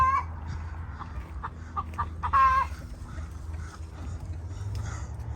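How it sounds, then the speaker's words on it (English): Chickens on a farm cluck in short bursts against a busy background, with faint talk now and then. "Chickens look healthy."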